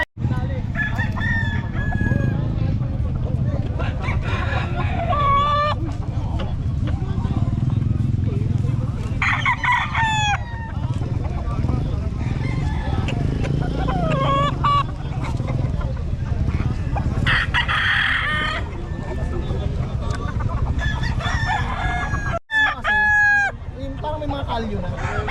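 Roosters crow repeatedly and hens cluck at a busy market in Bocaue, with several crows rising at intervals over a steady murmur of people talking nearby.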